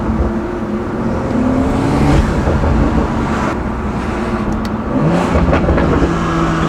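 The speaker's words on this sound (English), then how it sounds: "I love that inline 6 sound." BMW M340i inline-six with a catback exhaust and flex-fuel tune accelerating, a steady loud engine drone and rising rev under road and traffic noise throughout.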